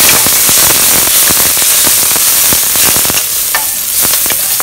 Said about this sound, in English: We will fry this at medium heat because we don't want to burn whatever we are putting inside this pan itself.